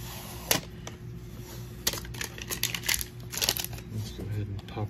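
A Target Mystery Cube of Yu-Gi-Oh cards being pried open, with crinkling plastic and styrofoam, sharp snaps and scattered rustles close by, under a voice speaking.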